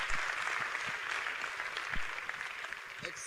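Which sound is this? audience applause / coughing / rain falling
audience applause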